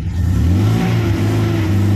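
A car engine with a fault that makes it stall when the gas is released is revved by hand at the throttle, producing a close, loud, droning rise and fall of engine tone with no talking over it.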